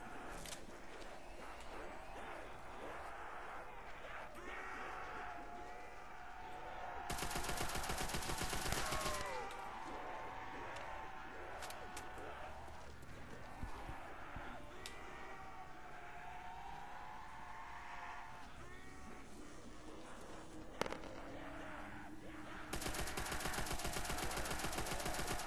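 Rapid submachine gun bursts cut through a Call of Duty zombies match on the Verruckt map, firing in short repeated volleys at close range over constant game sounds and background music, with a few louder sustained stretches of fire.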